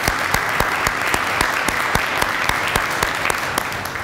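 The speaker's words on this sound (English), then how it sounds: "we need to give them a big round of applause" Applause from a banquet crowd at a volunteer appreciation event for boards and commissions, a loud, sustained, even roar of many hands with periodic sharper claps cutting through, no talking over it.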